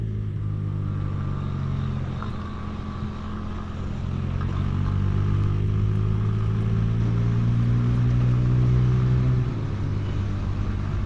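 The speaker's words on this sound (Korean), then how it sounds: "오토바이 한 대 더 있는데 뒤에?" A motorcycle engine drones nearby, its pitch rising and shifting as it passes, with a car-like rumble underneath and no voices.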